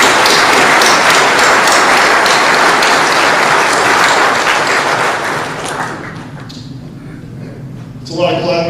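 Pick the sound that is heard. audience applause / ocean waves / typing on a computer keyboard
audience applause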